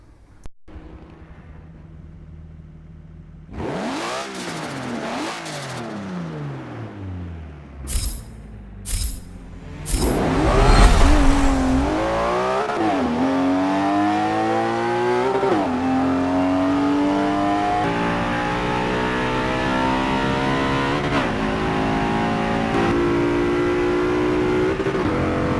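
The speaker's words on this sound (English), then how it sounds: "now it's on to the drag race, and it's a half-mile drag race" A car in a half-mile drag race idles, then launches and accelerates hard, the engine roaring and climbing through repeated gear shifts, loud and close, holding a high strained note to the end.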